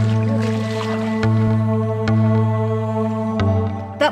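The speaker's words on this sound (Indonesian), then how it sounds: "Menggunakan wadah dari rotan lalu dimasukkan ke dalam air yang ada di rawa-rawa pinggiran sungai, terus digebuk-gebuk gitu ke air supaya udangnya keluar" A rattan basket is beaten against swamp water at a riverside in Aceh to drive shrimp out, giving a few sharp splashing slaps spaced apart over a steady low hum, fairly close and moderately loud.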